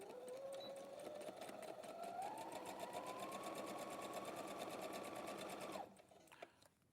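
A sewing machine running steadily for about six seconds at a seamstress's workshop, a continuous whirring drone that rises slightly in pitch as it speeds up, then stops abruptly, leaving a few faint clicks.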